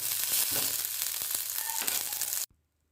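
Green chillies frying in a pan, a loud dense sizzle with a few light stirring knocks, running steadily close by before cutting off abruptly into silence.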